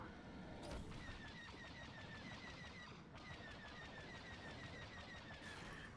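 A rapid-fire barrage attack from a starfighter in Star Wars Battlefront 2, quiet repeated bursts of fast shots with a whining whistle over a continuous rumbling battle background.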